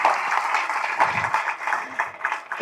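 Audience giving a round of applause at an event, a short burst of clapping hands that swells and fades, moderately loud with a sharp rise at the end.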